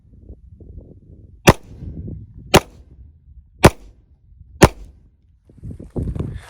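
Four sharp, loud gunshots from a Tisas D10 10mm 1911 pistol, spaced about a second apart, with quieter outdoor rumble and handling noise between shots.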